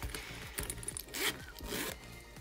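The zippers on a new leather shoulder bag slide open and shut, giving several quick close rasping zips in a soft uneven rhythm, with faint handling scrapes between.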